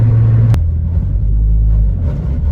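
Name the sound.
2007 Ford Focus ST engine while driving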